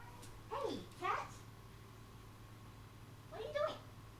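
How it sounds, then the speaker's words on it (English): A pair of soft meows followed by a pause and another meow, fairly faint over a low steady hum. "Do I hear a meow?"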